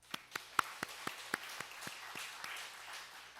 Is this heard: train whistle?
no